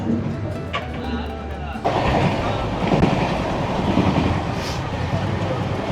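The Coromandel Express rolls along, a loud steady rumble with wheel clatter that swells after a brief pause near the start, heard from inside the carriage while people talk.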